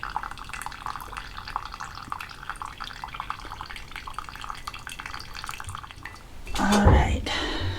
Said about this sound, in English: just gonna let this drip through because I don't want to waste any of this